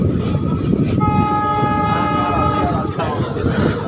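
A passenger train rolls along the railway near New Bongaigaon Junction in Assam with a loud, close rumble, and a sustained horn blast sounds for about two seconds in the middle.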